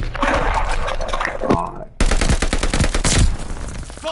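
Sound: gunfire from shooting in a video game

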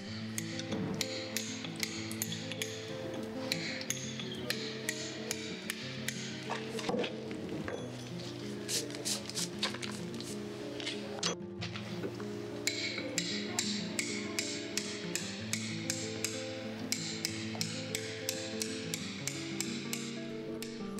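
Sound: toothed chisel (gradina) striking stone while carving

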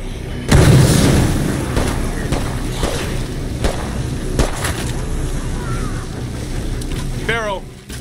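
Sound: grenade explosion in video game State of Decay 2

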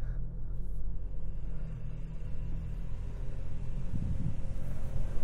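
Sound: 2022 Toyota Tacoma at full throttle in four high

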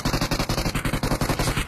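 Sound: gunshots in a battle royale video game

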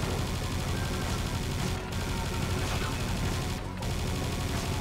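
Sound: machine gun fire in video game Serious Sam 2

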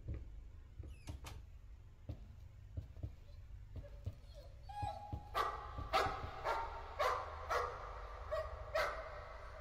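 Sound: dog barking inside a painting, Layers of Fear video game

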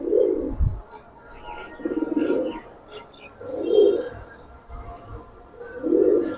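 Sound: giribaz pigeons cooing in a loft

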